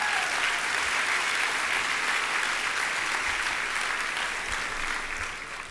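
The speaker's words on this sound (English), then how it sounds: "Let's give Ralph and his staff an applause real quick." Dinner audience at a Faith and Freedom Coalition victory dinner in Georgia applauds steadily, a dense, sustained wash of clapping from a large room that tapers slightly at the end, with no voices on top.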